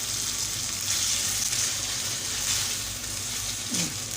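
Garlic and pepper sizzle steadily in a hot pan as they are stirred, a continuous close frying hiss with a faint scrape of the spoon near the end.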